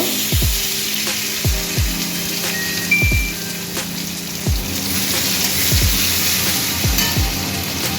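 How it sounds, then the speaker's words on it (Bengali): Black cumin, onion and tomato fry in oil for pomfret curry, a steady loud hiss and sizzle up close with repeated low pops and spatters at an irregular rhythm throughout; no talking. "তো আমি দিচ্ছি কালো জিরে, একটু পেঁয়াজ, টমেটো"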